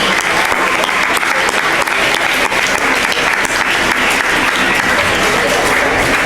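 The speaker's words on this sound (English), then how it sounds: "We need to give you a round of applause." Sustained, dense applause from an audience standing for a 2015 awards ceremony, loud and steady for several seconds with faint crowd murmur underneath.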